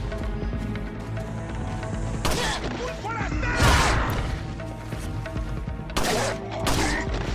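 Gunfire and impacts in the video game Resident Evil 4, with bursts, crashes and thuds over dense game music and effects while a player talks.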